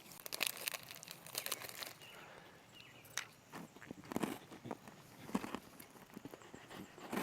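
Crinkling and crumpling of a freeze-dried Mountain House ice cream sandwich wrapper, irregular rustling crackles rising and falling close by at a campsite, with no talking.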